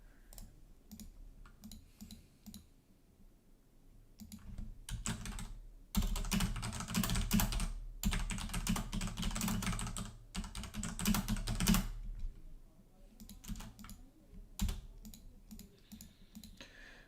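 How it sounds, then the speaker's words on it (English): Steady typing on a computer keyboard, quiet at first and then building into fast, dense bursts of clicking keystrokes with short pauses between runs, no talk present. "I was love ASMR typing."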